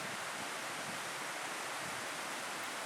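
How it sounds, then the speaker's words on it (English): A flowing stream makes a steady, dense rushing hiss that holds constant throughout, with no talking. "It's a beautiful stream, always flowing"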